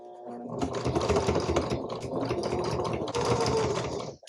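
A sewing machine stitches through several stiff, thick layers of wax-dyed batik fabric for a quilt, running in two rapid mechanical bursts with a brief slowdown between, close and fairly quiet, with no talking.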